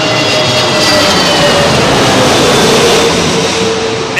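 An airliner passing low overhead on approach to Heathrow runway 27L at sunset, a loud broad engine roar with a whining tone that fills the whole stretch and eases slightly at the end.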